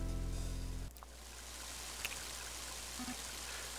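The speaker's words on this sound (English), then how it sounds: "Mighty heaven rain, isn't it?" Steady rain falls in the video game Mother 3 as an even, continuous hiss that starts after a low musical hum cuts out, with a faint soft tone later on.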